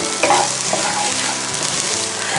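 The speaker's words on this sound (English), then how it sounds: "Just give it a quick stir." Onions and wild turkey frying in a hot Dutch oven, a loud steady sizzle close to the pot with a few scraping stirs of a utensil through the food.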